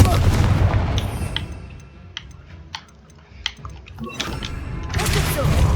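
A Confringo blasting spell goes off in a Hogwarts video game with loud, rumbling bursts at the start and end, separated by a quieter stretch of sharp cracks and clicks.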